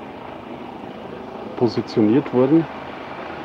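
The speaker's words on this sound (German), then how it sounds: "Wir können gerade sehen, dass ein Hubschrauber der Polizei die Motoren warm laufen lässt, sich vorbereitet." A police helicopter warms up its engines with a steady, even whine and roar. The helicopter stands at the site of the Kneissl wedding during a visit by Putin, and a reporter speaks briefly over the sound.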